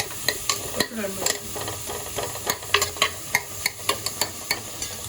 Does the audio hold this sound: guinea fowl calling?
no